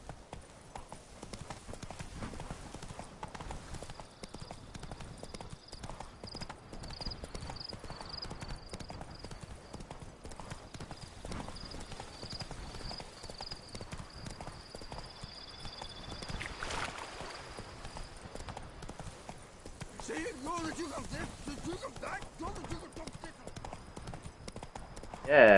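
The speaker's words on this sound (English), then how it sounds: "Come on, Roach" Horse hooves clip-clop in a steady, fast rhythm from the mount Roach in the video game The Witcher 3, running on as a constant mid-level layer, with a brief whinny-like sound near the end and talk mixed in.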